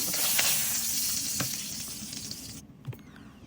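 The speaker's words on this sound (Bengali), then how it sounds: "সাবধানে মাছগুলো ভেজে নিলাম বেশি নড়াচড়া করবো না কারণ বেশি নড়াচড়া করলে মাছগুলো ভেঙে যাবে" Pabda fish fry in hot oil with a loud, bright sizzle and crackle, occasional soft stirring taps, before the hiss cuts off abruptly near the end, leaving a quieter tail.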